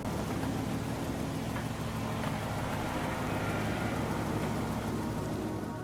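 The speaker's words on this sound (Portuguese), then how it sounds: "só o barulho da chuva" Steady, dense rain pours without a break in a video game, an even hiss of falling water that fills the whole clip.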